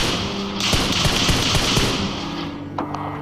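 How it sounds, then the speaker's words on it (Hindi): Gunfire from the PUBG Mobile video game, dense rapid bursts of automatic shots close and loud, continuous for the whole stretch with a brief lull near the end. "मैं यहाँ पर उन पर लगातार फायर करता रहा"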